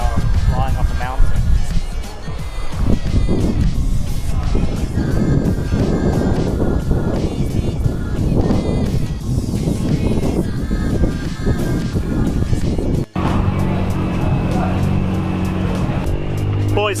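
A Honda Civic race car powers up a mountain hillclimb course, its engine loud and continuous and close by, with wind buffeting throughout and a brief dropout near the end before the drive resumes.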